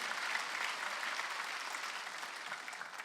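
A church congregation at a Wednesday worship service applauds in a steady, even wash of clapping, moderately faint and heard alone for a few seconds.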